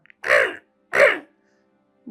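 Two loud, harsh crow caws ring out about three-quarters of a second apart, clear and close against near silence.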